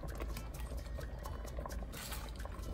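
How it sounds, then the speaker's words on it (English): Red Thai curry with carrots and snow peas simmering in a pot, a steady soft bubbling and gentle liquid burble, quiet and continuous with no talk. "And I'm gonna let it simmer for a little while longer."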